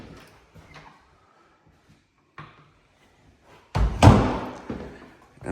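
A coat closet door swings shut with a single loud, close thump near the end, following a few quiet scrapes and light knocks in a room.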